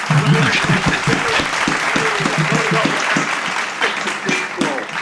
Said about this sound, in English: We all want to give you a round of applause.